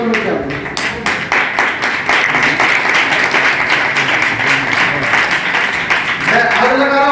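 Audience clapping at a Hindi poetry recital in a yoga ashram, sharp and rhythmic, with many hands striking in loose unison, continuous for several seconds before a voice begins near the end.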